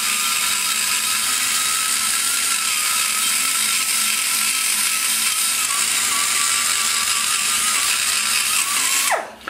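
A die grinder fitted with an egg-shaped stone ports a Chevy 350 cylinder head, giving a loud, steady high-pitched grinding whine that runs continuously before the tool abruptly winds down at the end.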